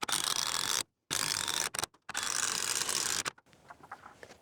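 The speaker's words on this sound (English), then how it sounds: "even the little 12 volter, they're kind of loud, especially obviously one of these little drivers like this" A small 12 volt impact driver sinks a screw into timber for an aviary vine support, giving loud, close bursts of rapid rattling hammering broken by short pauses, then fading to quieter handling noise.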